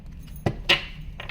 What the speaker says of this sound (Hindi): तो दूसरा डेक मैं निकालूंगी एंड विल चेक।